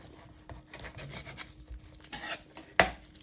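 A knife cutting chicken pieces on a board for chicken korma, a run of close rubbing, scraping strokes in an uneven rhythm, ending in one sharp knock near the finish.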